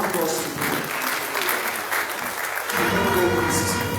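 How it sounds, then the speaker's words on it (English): Steady applause from a seated audience at a Nigerian military decoration ceremony for newly promoted senior officers, welcoming the Minister of Defence; dense, even clapping that swells slightly toward the end, with a voice speaking over it. "Please let's usher him with a round of applause"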